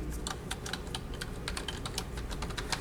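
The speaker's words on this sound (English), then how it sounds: "type in your CanesNet password" Rapid keystrokes on a computer keyboard as a university network password is typed in, a steady run of close, crisp clicks with no voices.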